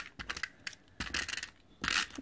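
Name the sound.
taping paper down on a card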